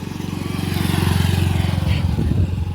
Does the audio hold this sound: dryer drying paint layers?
no